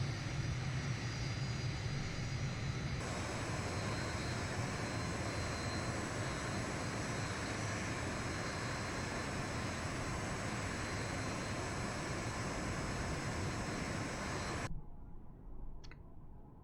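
An IndiaFoxtEcho MB-339 jet taxis in Microsoft Flight Simulator at the Reno Air Races, a steady loud engine roar and whine holding constant, then cutting off abruptly near the end.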